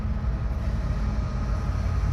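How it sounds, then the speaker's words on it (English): A CN freight train rolls past heading east, a steady, loud low rumble and rail roar that holds evenly throughout with no other sounds. "We got another train going by here, guys."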